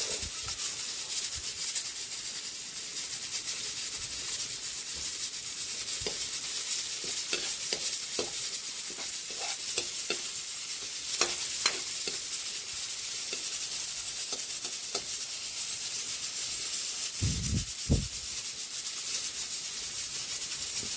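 Onions sauté in a pan for pork pata sinigang sa miso, giving a constant loud frying hiss with occasional scrapes and knocks of a stirring utensil.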